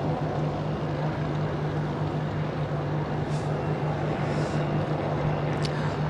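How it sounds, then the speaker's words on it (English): A Boeing 787-9 Dreamliner with Rolls-Royce Trent 1000 engines on its first flight takeoff, heard as a steady, distant broadband engine roar with a low hum running under it, fairly faint and unchanging throughout. "the 787-9 taking a turn to the left, heading out west"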